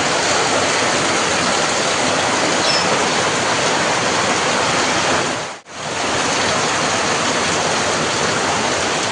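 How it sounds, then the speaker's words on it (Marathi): Dense, steady roar of heavy monsoon rain in Konkan, broadband and constant, with a brief dropout near the middle before the downpour resumes. "मुसळधार पाऊस लागतो आहे"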